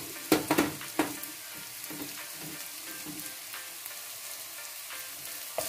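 Ginger and garlic dropped into hot oil in a pan for chicken curry, with a few loud initial spatters and then a steady, softer frying sizzle.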